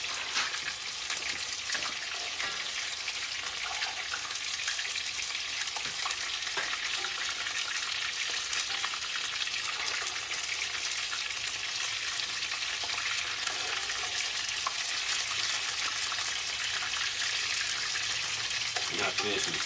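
Beer-battered fish fries on a grill beside sweet potato fries, giving off a steady, dense sizzle and crackle that holds throughout at moderate loudness, with no other sounds standing out.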